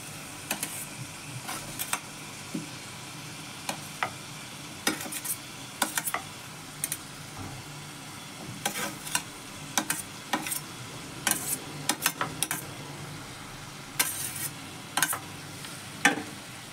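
Previously fried vegetables tipped one by one into a pan and stir-fried together, with steady sizzling beneath repeated sharp scrapes and clinks of a spatula against the metal pan, no voices.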